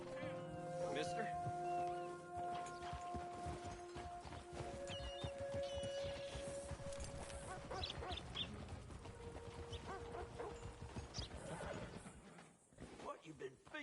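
A horse in Red Dead Redemption 2 neighs and whinnies loudly with hooves clopping, while people talk over it throughout.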